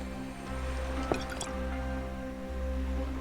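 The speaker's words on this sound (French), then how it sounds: "on va ramasser un peu d'eau" Water is collected in the video game Gengoku Dynasty with a short liquid splash and squishy drip sounds over a steady low ambient hum, quiet and without talk.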